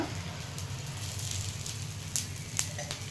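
Oil sprinkled onto dosa batter on a hot griddle gives a soft, steady sizzle with faint crackles and a couple of sharper pops, close and continuous with no speech.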